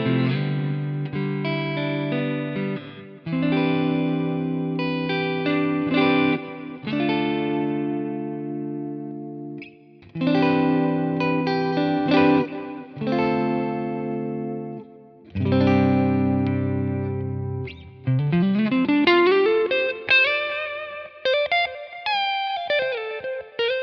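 Clean electric guitar through a Friedman amp capture playing chords and short phrases with delay and reverb, notes ringing out and trailing off between strums, then a sliding single-note line.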